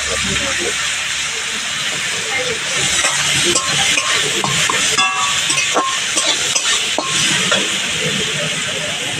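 Spicy chutney stirred and frying in oil in a pan, a steady loud sizzling hiss with scattered scraping clicks of the spoon, while a voice talks over it.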